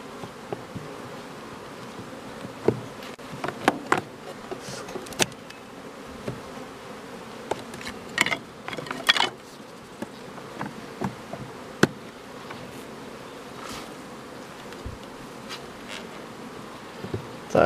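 Honey bees buzz at a hive in an apiery in early May, a dense continuous hum with individual bees zipping close by in brief louder passes, no voices.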